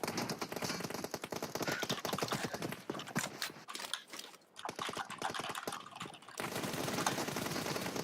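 Rapid automatic gunfire sprays in the mobile battle royale PUBG Mobile during a team deathmatch, a dense rattling stream of shots running almost continuously with a brief dip midway, steady and moderately loud.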